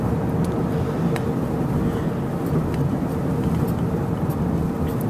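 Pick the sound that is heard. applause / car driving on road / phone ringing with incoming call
car driving on road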